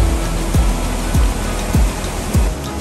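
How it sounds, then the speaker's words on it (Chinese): Steady rushing waterfall on a river gorge stream, loud broadband roar that stays constant throughout, with no voices over it. "哎，有瀑布哎"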